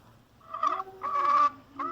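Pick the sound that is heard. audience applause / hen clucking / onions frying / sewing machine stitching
hen clucking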